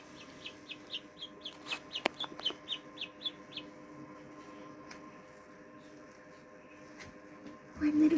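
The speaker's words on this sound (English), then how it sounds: "One little chickie hatched." Newly hatched Rhode Island Red chicks give a quick run of high, repeated peeps during the first few seconds, followed by quieter background with a few faint clicks and a brief low voice at the end.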